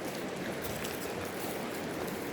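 Steady broadband rush of a shallow forest stream running over stones, continuous and fairly close, with no voices over it.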